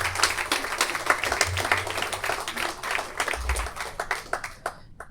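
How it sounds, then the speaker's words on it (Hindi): An audience at a mushaira poetry gathering breaks into loud, dense applause that stays strong throughout and cuts off abruptly near the end. "और आप से गुजारिश है कि तालियां जोरदार बजा दीजिए।"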